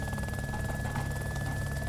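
A video game helicopter drones with a steady, close rotor throb and a constant high whine throughout a short stretch, loud and unbroken.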